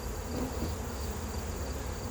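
Honey bees drone steadily around an open beehive's brood box during a hive inspection, a dense, continuous buzz of many insects close by with no pauses and no speech.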